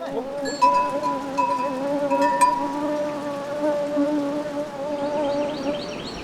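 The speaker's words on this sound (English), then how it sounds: "the humming of bees and the chirping of birds." Bees humming along a Himalayan trekking trail in Nepal's Everest region near the Dudh Kosi River, a steady buzzing drone with shifting pitch that fills the whole stretch, with faint chirping and bell-like tones above it.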